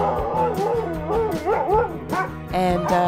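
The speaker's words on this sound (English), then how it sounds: "he's an incredible howler. He's got an incredible voice when it comes to howling." A working dog known as a strong howler lets out long, wavering, sirenlike howls close by, rising and falling in pitch with brief breaks between breaths.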